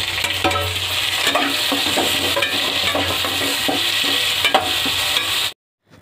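Onions with bay leaves fry in a pan with a steady, close sizzle and occasional spatula scrapes and clinks, then cut off abruptly near the end.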